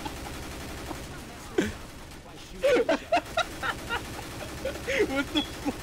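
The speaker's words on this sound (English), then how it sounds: "Just shoot him in the corner." Gunfire in a Left 4 Dead 2 match, as scattered sharp shots and short bursts that pick up after the first two seconds, loud and close, mixed with game noise and voices.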